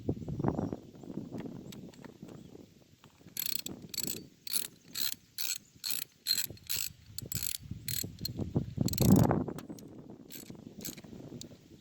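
Small parts on a DR string trimmer carburetor are tightened by hand, giving a run of regular metallic ratcheting clicks in bursts, close and clear, with no talking over them.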